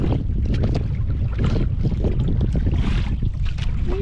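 Strong wind roaring across the open sea beside a small fishing boat, a continuous buffeting rush with gusty swells and water noise, loud and close against the microphone, no voices.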